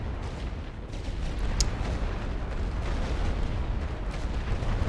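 Artillery bombardment in the WWI strategy game The Great War: Western Front, shelling a machine-gun nest: a continuous dense rumble of distant blasts and crackling, steady and loud with a few sharper pops.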